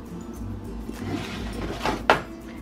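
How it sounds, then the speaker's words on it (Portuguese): An oven door opens with a short clunk near the end, in a kitchen where Brazilian-style cheese bread (pão de queijo) is being baked, over low background hum. "Então, vamos colocar isso no forno."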